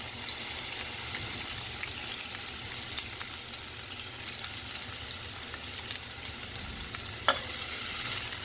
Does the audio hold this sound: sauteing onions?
yes